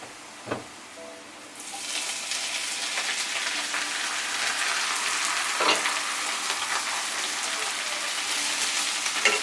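Bottle gourd leaves hit a pan of hot oil with browned onion and garlic. After a brief quiet start, a loud, dense, continuous sizzle breaks out and holds steady, with occasional clinks from stirring.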